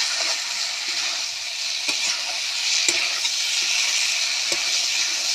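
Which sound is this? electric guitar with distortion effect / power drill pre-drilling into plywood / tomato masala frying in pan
tomato masala frying in pan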